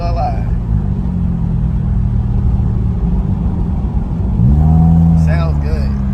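A stock 1995 four-cylinder car with rebuilt heads idles with a steady low rumble, then its engine revs up sharply near the end, loud and close.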